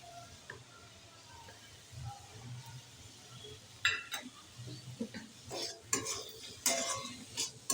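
Finely chopped green chillies fry in a pan for chowmein, a quiet hiss with a spatula scraping and clinking against the metal in irregular strokes, getting busier toward the end.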